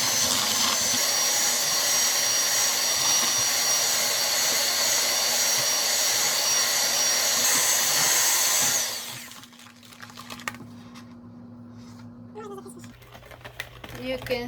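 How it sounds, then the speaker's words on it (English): An electric hand mixer beats egg yolks and sugar for a Swiss roll, a loud steady whine that runs for about nine seconds before cutting off, leaving quiet kitchen clatter and faint background noise. "My 4 egg yolks and the sugar, and I'll be beating them until I get this pale yellow color."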